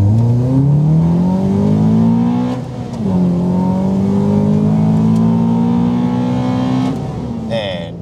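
A Nissan Maxima V6 and a Honda Accord Euro S accelerate hard in a rolling race, a loud close engine drone rising in pitch, dipping at a gear change, then climbing again.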